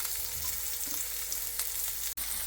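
Cut onions frying with spice powders for restaurant-style gutti vankaya curry, a continuous close crackling sizzle with a faint scrape near the end, no talk.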